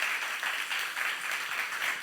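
A church congregation at a youth service claps together, a soft, fairly distant patter of many hands with a gently pulsing rhythm, lasting only a couple of seconds.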